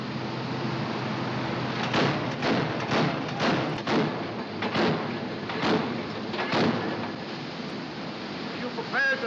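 Naval ship guns fire eight rounds at sea: a series of muffled, booming thuds spaced about a second apart, heard over a constant wash of ocean and engine noise.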